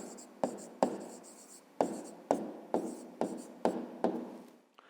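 A pen writes an answer by hand for a fifth-grade maths exercise, producing short scratchy strokes in a halting rhythm of about eight distinct scrapes, close and fairly loud with no voice.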